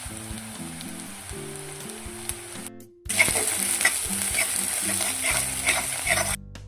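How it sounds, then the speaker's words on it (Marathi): Onion sautéing with asafoetida and turmeric sizzles steadily in a pan, with stirring scrapes over the hiss. After a brief dip in sound, the sizzle returns louder for the rest of the stretch, with a faint melodic background tune underneath. "कांदा आपल्याला लालसर होईपर्यंत परतायचा आहे"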